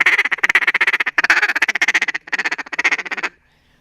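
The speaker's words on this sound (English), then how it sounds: "Next thing I do is a fast feed call" A Mondo duck call blown in a fast feed call: rapid, rhythmic raspy ticks and clucks in quick bursts with a few short breaks, loud and close, then stopping abruptly.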